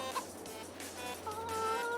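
Chickens on a Polish farm cluck near grass, a steady low farmyard hum underneath with brief calls and a drawn-out tonal note toward the end.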